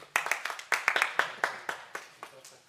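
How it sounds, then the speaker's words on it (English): Sparse, reserved applause for the winning archer at an indoor archery World Series event in Wohlen, a handful of hands clapping in irregular bursts, fairly close and moderately loud, with no talking. "a reserved round of applause for the winning athlete here at this World Series event"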